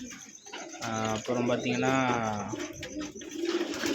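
Pigeons coo in a loft, with soft, throaty warbling calls rising in the middle while someone talks over them nearby.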